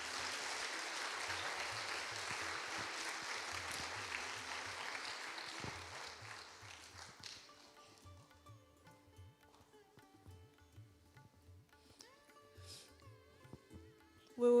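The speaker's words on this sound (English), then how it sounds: "Can we please have another round of applause for our children?" An audience applauds children after a skit at a National Easwaramma Day gathering; sustained clapping over a soft low pulse gradually thins out, leaving faint background music.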